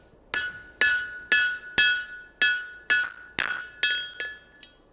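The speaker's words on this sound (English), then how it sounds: "Tap it on the anvil." Hand-forged nail tapped on an anvil by a blacksmith while forming a rose head, about nine sharp ringing metallic strikes in a steady rhythm, close and loud, with no talk.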